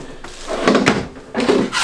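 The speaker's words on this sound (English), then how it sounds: "And then four big drawers here." Large kitchen drawers on heavy-duty 75-pound slides in a 2019 Jayco Eagle 27.5RLTS RV slide open and shut, giving two close, fairly loud rolling rumbles that end in soft thunks.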